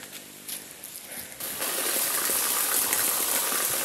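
Water pouring continuously like a waterfall down the rock face at a hillside temple, a steady roaring gush that swells louder partway through and then holds, close and dense.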